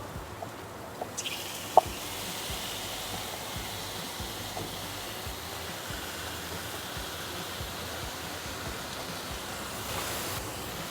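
Chicken frying in a pan with garlic, onions and salt gives off a steady, soft sizzling hiss, with a few small clicks and pops near the start.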